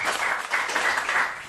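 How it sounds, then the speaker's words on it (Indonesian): Brief burst of applause from a church congregation at a sermon, a soft, moderately distant patter of many hands clapping that swells and fades in waves. "Tepuk tangan dulu yang terbaik."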